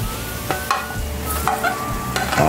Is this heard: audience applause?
no